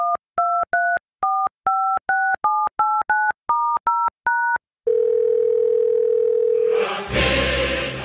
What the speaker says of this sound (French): Laissez-moi juste le temps de faire son numéro.